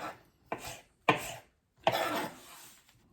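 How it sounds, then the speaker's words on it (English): A knife dices an onion on a chopping board for vegetable korma: several sharp, close chops spaced unevenly, the last one trailing into a longer scraping stroke. "if you cut back across this now the other way you'll get nice little dices of onion"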